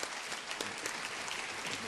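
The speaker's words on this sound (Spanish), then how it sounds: "Recibamos con un fuerte aplauso a María Fernanda." Applause welcoming María Fernanda at a children's and youth literature congress, a dense, even patter of clapping from an audience, moderately loud, with some voices blended underneath.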